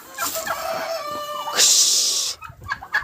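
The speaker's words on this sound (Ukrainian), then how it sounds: "Індички і кури вийшли." Several chickens and turkeys cluck and squawk close by in a winter village yard, with one loud, rising shriek in the middle and scattered rustling after.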